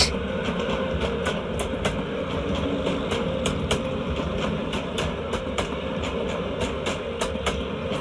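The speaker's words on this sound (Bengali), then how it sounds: "ট্রেনের আওয়াজ।" Train running near a bridge, a continuous rumble with regular clickety-clack wheel beats over the rails, steady and fairly close, no talking.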